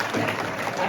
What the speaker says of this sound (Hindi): मेरे लिए भी एक बार ताली बजा देंगे